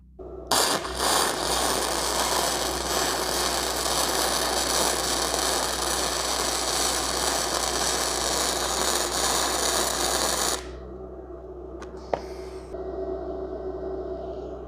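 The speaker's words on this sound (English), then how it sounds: "First weld with the BestArc 145." A BestArc MIG145 welder running a MIG bead across a small gap between two metal pieces, a steady loud crackling buzz lasting about ten seconds before cutting off, close up with no talking.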